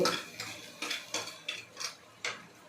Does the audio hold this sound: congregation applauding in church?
no